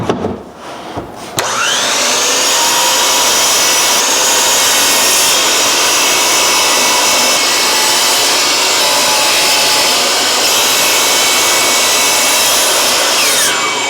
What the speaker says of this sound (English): We're going to get everything cut to rough length and then go to the table saw and rip everything to width.